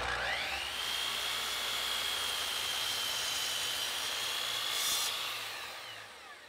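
A power saw cuts wooden planter legs to a set length against a stop block, a steady high whine running loud and close for about five seconds before tapering off as the cut finishes.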